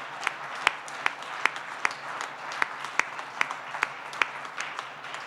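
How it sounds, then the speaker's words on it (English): Polite applause at a leadership awards event for corporate table sponsors: a modest spread of hands with a few sharp, distinct claps popping out at fairly regular intervals, moderately quiet. "If we could get a round of applause for them."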